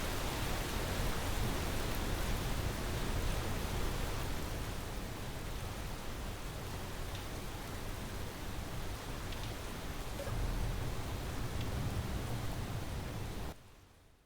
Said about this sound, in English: maybe in the morning when it's stopped raining